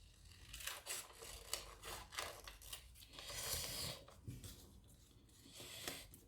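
Scissors cut paper to shape the hair of an origami head, close and quiet, with repeated short snipping and rasping strokes in an uneven rhythm.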